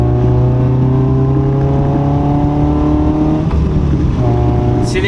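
A 1993 Toyota MR2 drives along with a loud, steady engine drone from inside the car, the pitch holding and then dipping briefly before rising again.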